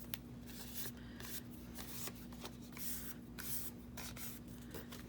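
Paper being trimmed at a craft table, soft crisp rasping cuts repeating quickly and faintly over a steady low hum.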